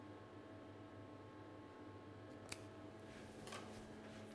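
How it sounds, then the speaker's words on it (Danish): Scissors snip a small hole in a piping bag filled with tempered chocolate, a single faint, sharp cut followed by a softer second snip over a quiet, steady background hum. "Vi klipper et lille hul."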